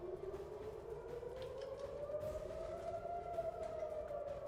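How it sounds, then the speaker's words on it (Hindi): An air raid siren wails from outside a building in a war zone, one long faint rising tone that slowly climbs and holds under low background rumble. "बाहर से सायरन बजी है"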